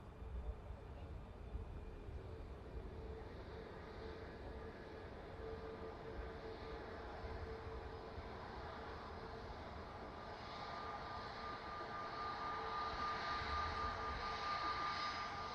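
An Airbus A350 taxis at Manchester Airport, a low, distant engine rumble with a faint high whine that swells slowly toward the end. A voice talks now and then over it.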